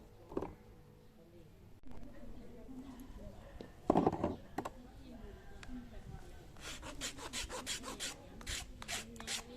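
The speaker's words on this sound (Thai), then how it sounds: "รอให้มันแห้งแล้วตะไบถูออกนะครับ" A hand file scrapes a piece of white tent pole being shaped into a slingshot pellet, producing rasping strokes in irregular bursts, with a run of quicker scraping toward the end, close and moderately loud.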